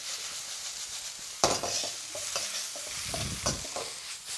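Vegan chow mein noodles tossed and stir-fried in a hot wok, a steady sizzle broken by a sharp clatter and several scraping flicks of the pan, close and clear with no talk.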